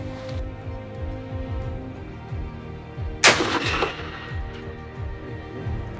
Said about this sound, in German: ich schieße gerade auf die 100 Meter Scheibe